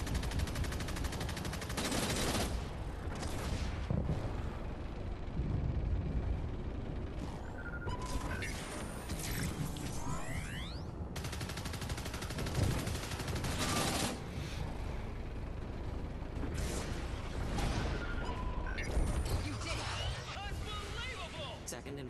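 Heavy rockets and continuous gunfire in the video game Arcangel, dense bursts of shots and blasts layered over mechanical rumble, loud throughout, with voices talking over the combat.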